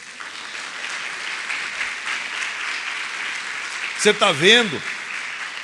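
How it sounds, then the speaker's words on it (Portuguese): A church congregation applauds in a steady wash of clapping that carries through, with a person speaking briefly near the end. "Pode aplaudir esse Senhor na vida dele."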